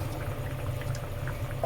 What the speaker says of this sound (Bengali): দেখো ঝোল কত সুন্দর ফুটে গেছে